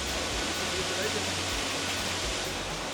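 A tiered waterfall in a South Goa wildlife sanctuary, flowing at low dry-season levels, making a steady, dense rushing wash of water that stays constant and fairly loud throughout.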